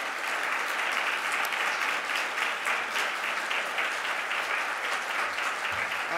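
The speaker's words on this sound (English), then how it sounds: "give yourselves a big round of applause" Steady, dense applause from an audience at a closing conference keynote in Salt Lake City, many hands clapping loudly and continuously throughout with no talking over it.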